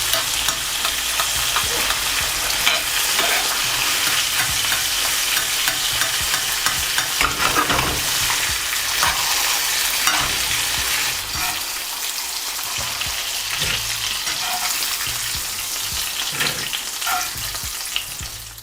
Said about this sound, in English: Now we're going with our compound butter, and I'm just gonna baste these.